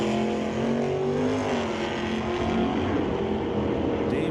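A '72 Nova and a super stock Camaro sit on a drag strip, their engines roaring loud and steady with a thick, rumbling drone that holds throughout.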